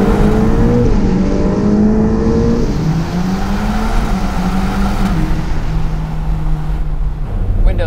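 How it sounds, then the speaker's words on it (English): Ferrari Portofino M engine revving inside a tunnel with the top up, a continuous loud drone with rising and falling harmonic sweeps of revs and whooshing turbo noise, no talk. "you hear a little bit of that small piston high revving sound, but mostly there's the whistle from the turbos"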